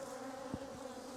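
A swarm of bees buzzing in and around a car, a dense continuous drone that stays loud and close with one slightly stronger pass near the middle.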